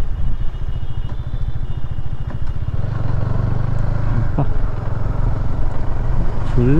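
A vehicle engine rumbles steadily on a narrow road through coffee plantations near Yercaud, a low, continuous drone growing slightly fuller, with faint voices beneath it.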